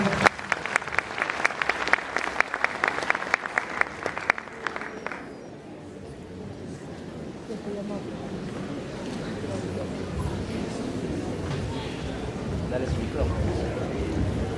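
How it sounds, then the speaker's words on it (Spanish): A small audience at an academic panel on digital teaching gives dense, steady applause for a speaker for about five seconds. The clapping then stops and leaves a low, restless room hum with soft shuffling to the end. "Y fuertes las palmas también para Raúl Cadillo León"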